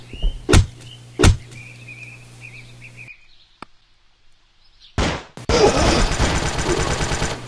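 Gunfire in Pixel Action Heroes on the Switch, with two loud separated shots over a low hum, a single faint click, then a heavy blast that gives way to dense, rapid shooting and clatter.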